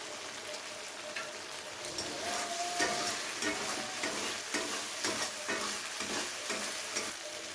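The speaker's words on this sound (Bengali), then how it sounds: "ভালো করে কষিয়ে নেওয়া হয়ে গেছে, কারণ মশলার গা থেকে তেল ছেড়ে গেছে" Masala cooks down in oil in a pan for Bengali dudh katla fish curry, with a continuous hissing sizzle and a steady rhythm of soft scraping stirs close by.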